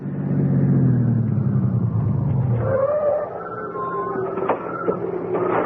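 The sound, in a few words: car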